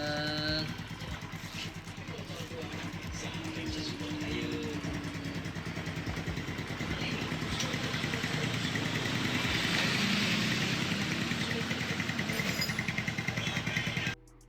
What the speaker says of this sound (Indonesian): Akhirnya nyala juga, knalpotnya tidak seimbang.